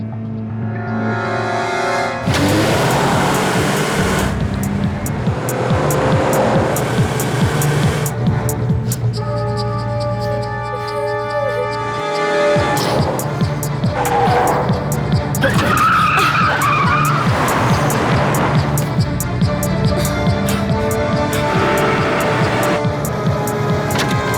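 In a car chase scene from a Hindi-dubbed Chinese drama, a speeding car roars loudly with long tire squeals and skids, its engine surging and fading in waves across the scene.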